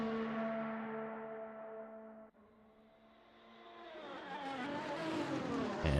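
Ferrari race car at Spa screams at top speed in high gear, then drops sharply through a rapid series of downshifts and rises again, loud and close without talk.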